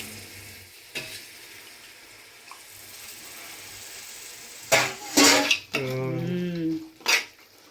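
Tomatoes and mint fry and get stirred in a pot for biryani, with a steady sizzle broken by a few sharp scrapes and clinks of a metal spoon, and a voice speaks briefly near the end.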